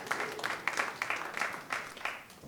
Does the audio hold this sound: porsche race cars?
no